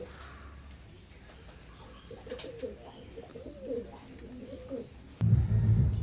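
Imported-bloodline Teddy pigeons coo softly in a low, repeated burble, followed near the end by a sudden louder rustle or knock close by.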